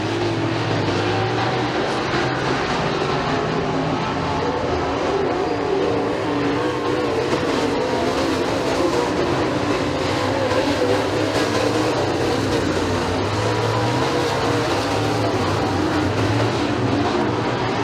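Race cars lapping a dirt oval at McKean County Raceway during heat races, a continuous, dense roar of engines that rises and falls steadily at a moderate distance, with no voices.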